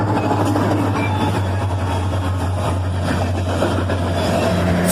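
A CSX freight train led by a GP38-2 locomotive, followed by a G42 and a GP40, rumbles past with a loud, steady low engine drone and a constant rolling rail noise.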